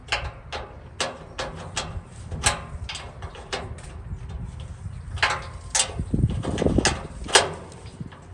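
A cheap adjustable wrench tightens bolts while a Char-Griller Grand Champ XD offset smoker is assembled: a close, fairly quiet series of sharp metallic clicks and taps in an irregular rhythm, with faint scraping between them.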